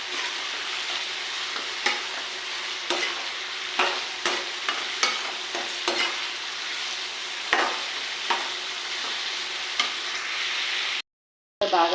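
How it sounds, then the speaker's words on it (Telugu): Chopped onion pieces frying in a pan, a continuous sizzle broken by repeated clinks and scrapes of a spoon stirring, ending with a brief cut of silence. "ఇప్పుడు ఈ ఉల్లిపాయ ముక్కలు బాగా ఎర్రగా వేగేటట్టు వేయించుతానండి"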